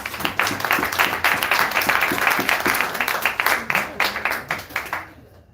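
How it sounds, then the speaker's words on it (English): Sustained applause from an audience, many hands clapping steadily for several seconds before cutting off. "can we please give our 4 assistants a big round of applause?"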